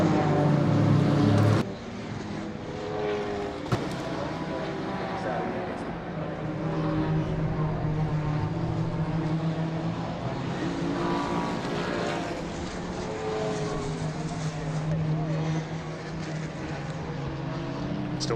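BMW and Ginetta race cars lap Donington Park, their engines a continuous droning roar that rises and falls as they pass, heard beneath steady race commentary.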